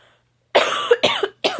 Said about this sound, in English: And then the coughing starts.